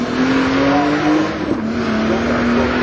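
Turbocharged VR6 drag car launching at the strip with its tires spinning, a loud, steady engine drone with a sustained tone holding for nearly three seconds, close and continuous.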